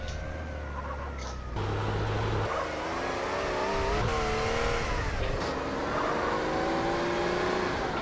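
Engine of a ZR350 sports car in GTA San Andreas driving and revving, a steady loud drone with rising and falling pitch sweeps as it accelerates, with game sound throughout and no talk.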